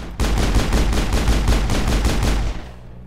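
Rapid pistol fire in the Mass Effect video game, a steady burst of about a dozen evenly spaced, loud, close shots lasting over two seconds, then a brief tail-off.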